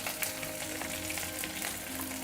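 Onions sizzle steadily in a hot pan while soybean curry is cooked, a dense close frying hiss that stays even for the whole stretch with no voices.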